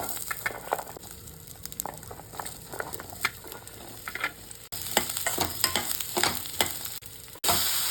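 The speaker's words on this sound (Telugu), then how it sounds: "అదే ప్యాన్లో కొద్దిగా నూనె పోసి కట్ చేసుకున్న ముక్కలు వేయించుకోవాలి" Cut cranberry pieces fry in a little oil in a pan, giving an irregular crackle and sizzle with scattered pops and stirring scrapes, which grows louder and denser over the eight seconds.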